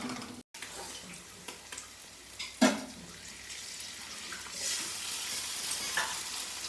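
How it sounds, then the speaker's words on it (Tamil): Egg cracked and poured into a hot pan of browned fried onions, followed by steady sizzling and stirring scrapes that swell midway, with no talk. "இப்போ நம்ம முட்டையை உடச்சி ஊற்றலாம்."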